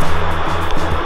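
Water pours down at Batlag Falls in Tanay, Rizal, a loud, dense, continuous rushing roar heard up close beneath the falling stream.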